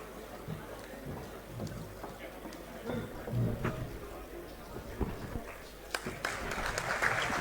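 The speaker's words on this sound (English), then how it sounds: "Big round of applause, please." An audience applauds at a ceremony marking Mallikarjun Kharge's 50 years in politics, with a diffuse, moderate patter of clapping that swells toward the end and low voices mixed in.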